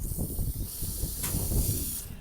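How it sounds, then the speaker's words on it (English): Roof cleaning solution sprayed across a shingle house roof in Ozark, Missouri, giving a steady close hiss with a low pump rumble underneath and a brief brighter burst partway through. "we're gonna finish spraying this and we'll see what it looks like"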